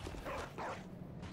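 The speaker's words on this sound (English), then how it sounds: "Eaten in the back by a dog." A dog enemy in the video game Bloodborne attacks with a few quick, close barks and yips followed by a short whimper, fairly faint against a low background.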